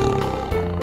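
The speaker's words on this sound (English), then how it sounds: "tiger" Tiger roar from a 3D animal slide game, a brief, loud growling roar lasting under a second.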